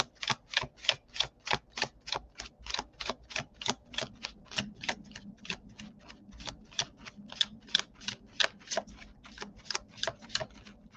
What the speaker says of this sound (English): I'm shuffling pretty well today